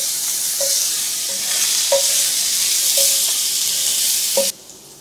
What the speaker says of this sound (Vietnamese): Tỏi với hành tím mình phi cho nó vàng thơm lên rồi nè.